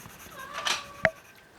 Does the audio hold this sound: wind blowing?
no